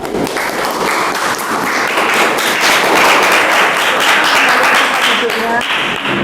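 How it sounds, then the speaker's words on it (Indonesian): A classroom group of listeners gives a sustained round of applause for the first student group, dense overlapping clapping that stays loud and steady throughout. "Beri aplaus untuk kelompok 1"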